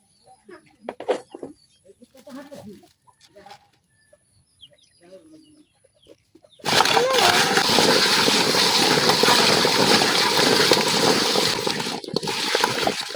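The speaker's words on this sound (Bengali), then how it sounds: "তো এখন আমি এই কচুগুলা লবণ দিয়া পরিষ্কার করে ধুয়ে নেম।" Chopped taro is washed by hand in salted water in a village kitchen, a loud, close, continuous sloshing and splashing that starts abruptly halfway through, after a quieter stretch with clucking chickens and some talk.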